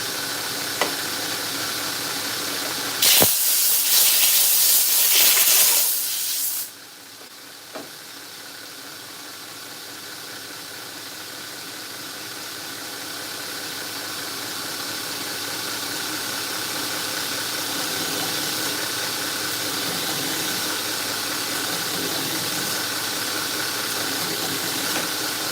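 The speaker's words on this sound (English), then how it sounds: "we're going to step back over to the hollow grinding wheel" Knife blade being hollow ground on a grinding wheel in a knife workshop: a sharp, bright hiss of grinding for about three seconds, then a steady whirring wheel and shop drone continuing throughout.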